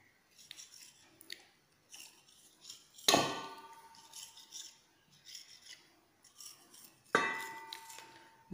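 Two sharp knife strokes cut through a Malabar sweet snack, the diamond-shaped Aaram number treat, each with a crisp crunch that trails off, amid quiet scraping and handling sounds.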